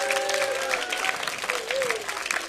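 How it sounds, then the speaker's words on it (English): An audience at an indoor church entertainment event applauds steadily, with dense clapping and some crowd noise throughout. "one more round of applause for the entrance of our king and queen"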